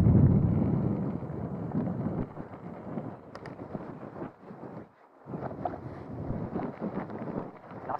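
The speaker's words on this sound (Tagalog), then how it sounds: "Lakas ang hangin." Strong wind buffets the microphone while a rider mountain bikes on a rigid fork along the Ricas Trail. The roar is loud and continuous, with gusty rumble that briefly drops out near the middle before surging back.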